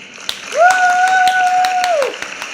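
Scattered hand claps from a small group ring out as sharp separate hits, with a steady whistle-like tone held through the middle, and no talking.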